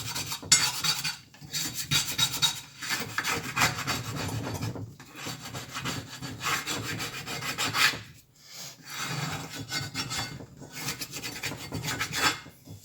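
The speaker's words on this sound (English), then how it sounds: "I just scrape the egg off around the edge and scrape it off the bottom" Cooked egg is scraped off a cast iron pan with a scraper, producing loud, rasping strokes close by that repeat in long bursts with short pauses between them.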